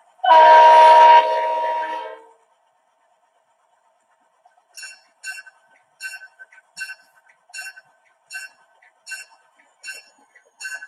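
A model train locomotive sounds one loud, sustained horn blast close by. After a pause comes a regular series of short, chiming clanks that repeat evenly, like a bell or chuffing effect.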